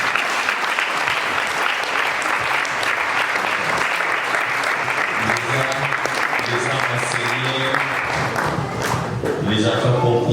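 A church congregation breaks into sustained loud applause, dense clapping from many hands that carries on throughout, with voices and cheers rising through it near the end.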